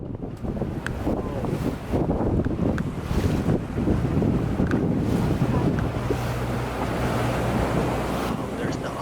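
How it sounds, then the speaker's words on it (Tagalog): Big ocean waves surging near the rock arch at Los Cabos, Mexico, heavy rolling wash and wind buffeting from a boat, loud and continuous with occasional faint voices. "Wow, ang lakas ng alon."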